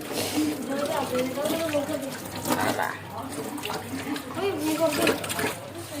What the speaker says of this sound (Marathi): चला हात धुवून टाकू आपण